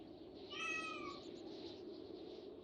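A cat in the medieval colony game Going Medieval gives a single faint meow over a steady low ambient background, with no talking.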